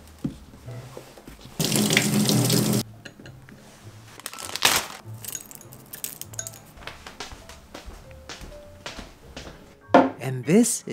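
A kitchen faucet runs into the sink in a short steady burst while dishes are washed during home cooking in Japan, followed by scattered clinks and knocks of dishes and utensils, close by.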